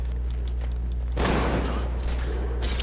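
Rapid bursts of enemy gunfire in Batman: Arkham Knight crackle loud and dense over a low game hum, a sustained volley that fades into scattered shots, with no voices over it.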